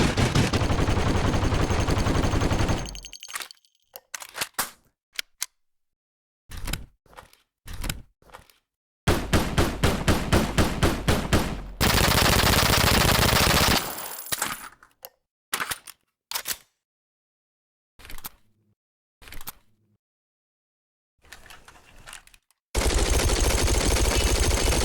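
Bursts of weapon fire from a narrative first-person shooter game: rapid machine-gun volleys, long sustained streams and single sharp shots, loud and separated by brief silences.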